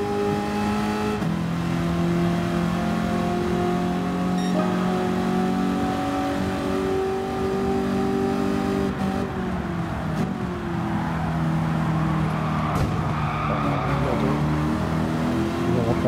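A 1971 Ford Mustang Mach 1 in Gran Turismo 7 accelerates hard, its engine note climbing through gears with pitch drops at shifts and brief tire squeal, loud and continuous for sixteen seconds.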